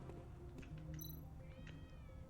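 Street cat meowing in the video game Tales of the Neon Sea, a few short mews over a quiet game background, with no speech.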